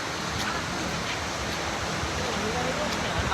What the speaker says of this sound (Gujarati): અહીંથી આમ પાણી જો જટાશંકરથી આવે છે